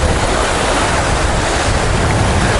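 Waves wash steadily on Tsilivi Beach in Zakynthos, Greece, heard as a loud, continuous broadband roar of surf mixed with heavy wind buffeting the microphone.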